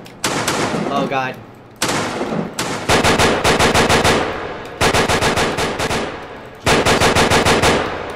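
Rapid automatic gunfire bursts in a first-person shooter game, several loud stuttering volleys separated by short pauses, with a player's brief exclamations between them.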